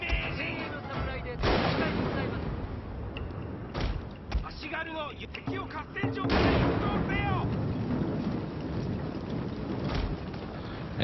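Battle sounds from the Shogun 2: Total War video game as archers fire on a castle, with repeated booming impacts and a rumbling, roaring din over the whole stretch while a voice talks over it.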